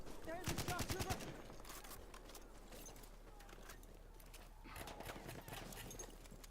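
Heavy gunfire in a competitive Call of Duty-style domination match between esports teams, bursts of rapid shots strongest at the start and again near the end, running continuously under commentator talk.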